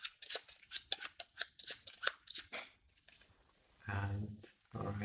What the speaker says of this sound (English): So let's shuffle these.